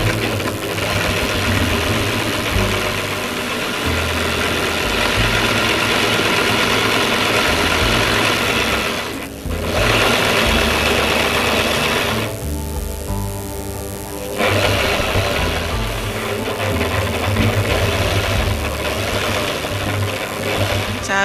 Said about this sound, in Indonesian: Setelah itu dijahit lurus.